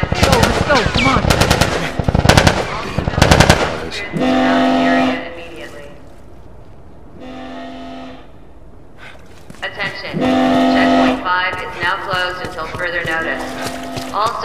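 Rapid automatic gunfire in The Last of Us video game rattles in loud bursts, mixed with shouted voices, then gives way to a lull with a droning tone before more shooting resumes.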